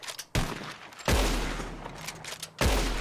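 Gunfire in the western video game Red Dead Redemption 2: three loud, sharp shots spaced about a second apart, each trailing into a booming rumble and echo, with no speech.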